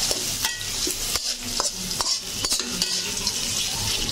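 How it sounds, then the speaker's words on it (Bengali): Onions frying in a pan and being stirred: a steady close sizzle broken by repeated spatula scrapes and light taps against the pan, with no talking. "তো দেখতে পাচ্ছ আমি পেঁয়াজগুলো ভেজে নিচ্ছি।"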